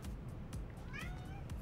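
A pet cat meows near the microphone with a few short, rising mews over a low steady background hum, no talking.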